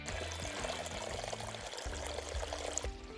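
Water pours and splashes steadily from an outdoor multi-tier metal fountain, a continuous close trickle and splash with no voices, accompanied by soft background music.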